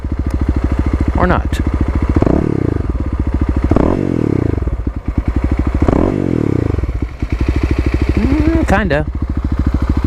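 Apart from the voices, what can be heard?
Kawasaki KLX351 EFI motorcycle engine revving, stationary rev test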